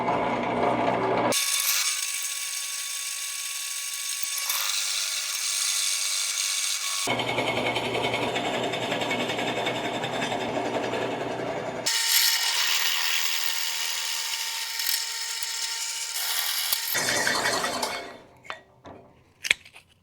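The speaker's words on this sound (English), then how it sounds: "We got these 2 pieces drilled out." A power drill boring through wood pieces for a Valentine's Day woodworking project, long loud whining runs that stop and restart in separate passes, ending with a few clunks and taps as the tool goes quiet.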